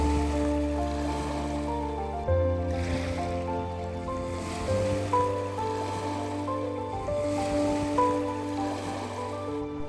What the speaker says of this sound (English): the water was really nice, calm and lapping against the rocks.